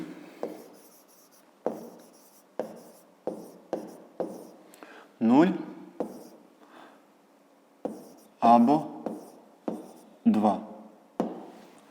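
A pen writing out a fifth-grade math solution on paper makes close, repeated scratchy strokes in short bursts with brief pauses, some strokes longer and louder than others.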